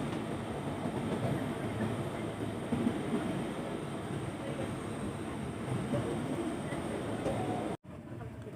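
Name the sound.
commuter train riding on rails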